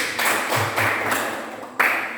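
Applause from a class of students during a teaching-practice lesson in an Indonesian school, a dense spread of hand claps that swells in short waves and rises again near the end, with no talk over it.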